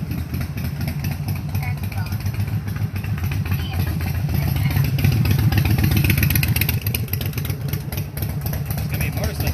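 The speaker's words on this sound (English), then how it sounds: "It's going to be a motorcycle ride" A motorcycle engine runs with a steady, close, mid-pitched rumble that rises briefly as if revving before settling again. A person talks over it.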